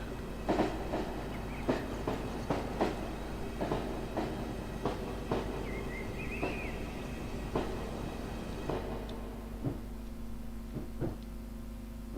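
A Class 320 electric multiple unit in ScotRail livery runs in a train simulator game, with a steady low rumble and regular clickety-clack wheel beats over rail joints throughout. A faint squeal rises midway, and the sound thins toward the end.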